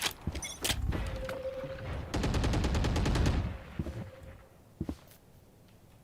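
A turret firing in Valorant, a rapid burst of close, loud automatic shots lasting over a second, preceded and followed by scattered single shots and game tones.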